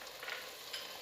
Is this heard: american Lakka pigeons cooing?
no